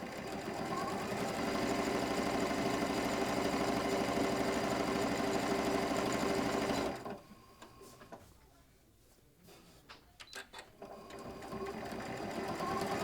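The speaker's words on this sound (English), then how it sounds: "we are going to sew all around all 4 edges" A Janome Continental sewing machine runs fast and steady, stitching around the edges of fabric, then stops; a few clicks and handling knocks follow before the motor starts up again.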